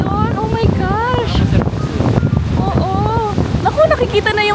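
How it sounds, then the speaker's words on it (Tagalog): Strong ocean waves and gusting wind buffet the microphone on a Boracay beach in rough weather, a loud continuous roar with a person talking over it. "Sobrang lakas ng alon."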